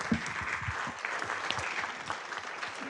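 An audience at a book event applauds author Susan Page, a dense, steady clatter of many hands lasting a few seconds with faint voices underneath.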